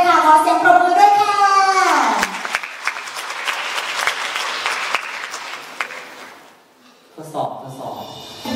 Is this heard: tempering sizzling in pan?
no